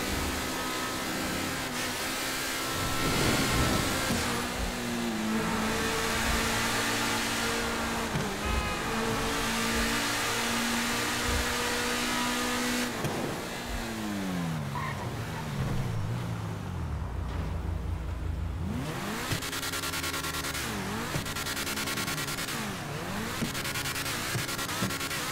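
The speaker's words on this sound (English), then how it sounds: "This is definitely one of the more unique sounding supercars in the game." An Infernus supercar in GTA Online revs and accelerates through several gear changes, a loud, continuous engine roar with rising and falling pitch sweeps and no talking.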